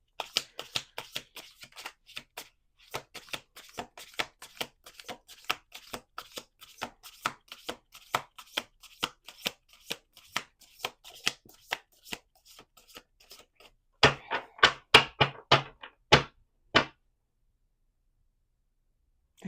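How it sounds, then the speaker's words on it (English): Repeated close riffles of tarot cards being shuffled, quick snapping bursts that grow louder near the end before stopping into silence. "Last shuffle."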